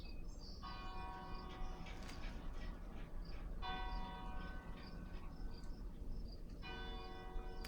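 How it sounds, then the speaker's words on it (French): Church bells ring out in repeated tolling bursts with long ringing tones, heard at moderate distance over a constant background of chirping crickets. "J'écoute les cloches."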